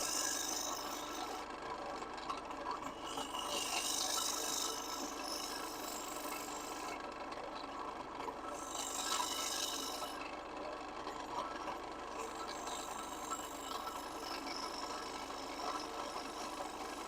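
A turning gouge cuts wood on a lathe in long rasping passes, with the scraping rising and fading in several strokes over a constant motor hum, no voices.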